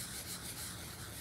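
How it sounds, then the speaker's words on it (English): Sandpaper rubs steadily over a 3D-printed Rose Quartz sword from Steven Universe, a faint, even, continuous scratchy hiss with gentle back-and-forth swells and no talk. "I'll just sand them all again."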